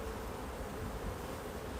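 A dense, steady buzzing of many feral bees, faint but continuous, with no voices.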